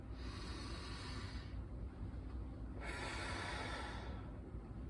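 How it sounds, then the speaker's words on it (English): Deep breathing with a forceful, pressured exhale during a lymphatic drainage routine, two long airy breath cycles, close and faint, with no talking. "We're going to do 5 big deep breaths with pressure on the exhale."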